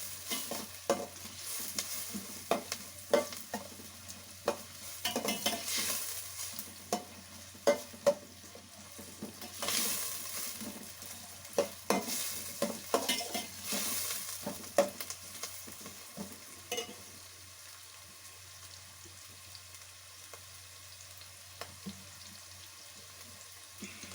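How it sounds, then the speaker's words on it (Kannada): Onions fry in a pan with a soft, low sizzle under repeated stirring strokes and spoon taps against the pan, fairly quiet and close, easing toward the end with no voices. "ಚೆನ್ನಾಗಿ ಫ್ರೈ ಆಗಲಿ."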